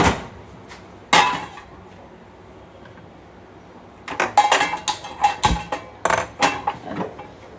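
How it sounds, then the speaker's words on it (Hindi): A metal kadhai is set down on a home gas stove, giving a sharp clank, then a run of several clattering knocks and scrapes of cookware close by, with no talk. "अब रखते हैं हम कढ़ाई"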